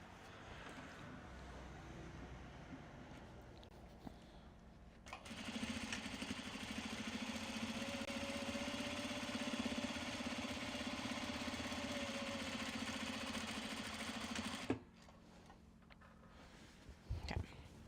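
Sewing machine stitching zippers onto a Japanese fabric box bag: a steady motor whir starts suddenly, holds for about ten seconds, then stops, with quiet room noise before and after.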